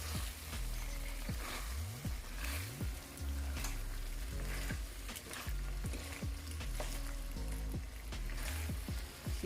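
Green onion being stirred into jerk shrimp pasta in a hot pan, with a steady sizzle throughout and repeated scraping, stirring strokes close by and no talking.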